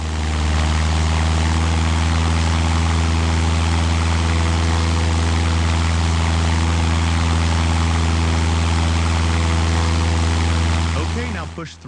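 Propeller aircraft engine in the FlyWings flight simulator, a loud, steady droning hum with strong tonal layers that holds constant for nearly twelve seconds before cutting off abruptly.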